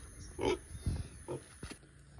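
A pig grunts several times in short, low bursts, close by, with quiet gaps in between.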